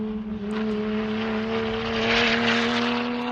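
A Toyota GR Supra race car at a track event screams past with a loud, sustained high-revving engine note, steady and near, under a broad wash of track noise.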